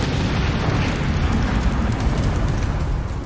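A bomb blast thrown at Archduke Ferdinand's car, heard as a dense, sustained roar of low rumble and crackling debris that stays loud throughout, with no distinct single boom.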